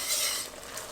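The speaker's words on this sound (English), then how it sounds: "Stir that in." Parmesan cheese being stirred into a Cajun cream sauce that is simmering in a pan, a steady close-up scraping swish over a soft bubbling sizzle, strongest at the start and easing slightly toward the end, with no talking.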